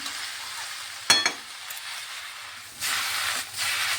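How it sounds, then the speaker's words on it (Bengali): Vegetables frying in a pan for an Ekadashi dish, giving a steady close sizzle with a sharp clatter of stirring near the start and louder bursts of hiss toward the end, with no speech. "এই যে ভাজা ভাজা করে নিচ্ছি, ভাজা ভাজা হয়ে গেছে"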